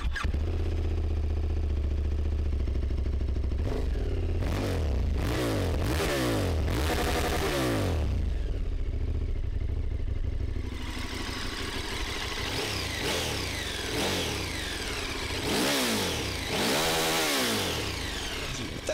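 A KTM 1290 Super Adventure S motorcycle engine blipped repeatedly from idle, with loud sharp revs rising and falling in quick bursts, then a steadier stretch of throttle sweeps, up close and with no talking.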